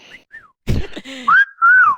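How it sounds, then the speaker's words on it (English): A person whistles a few short, rising and falling notes, with a breathy gasp and a brief vocal sound in between; close and clear. "I whistle. I whistle."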